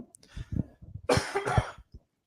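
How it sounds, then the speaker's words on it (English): A few sharp coughs close up, bursting out loudly in a cluster after some softer throat sounds and breaths. "I'm going to try and not cough into the microphone"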